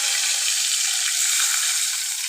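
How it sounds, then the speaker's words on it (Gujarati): Hot oil tempering for buttermilk crackles in a continuous loud, bright sizzle close up, with no speech. "આ રીતે આપણે છાશ પહેલાં વઘાર નાખવાની છે"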